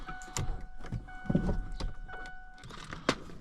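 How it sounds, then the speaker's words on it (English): Sharp, irregular clicks and ticks sound inside a Ford F-150 pickup with a suspected electrical short, close and fairly quiet, with a faint electrical hum running beneath. "Something's clicking. Something sounds shorted."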